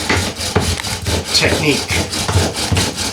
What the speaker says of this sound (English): the Egyptian drill is a much better step before you do bow drill